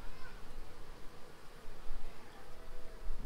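Honey bees buzz in a dense, steady hum at an open hive during an inspection in Jamaica, close up and fluctuating slightly in loudness.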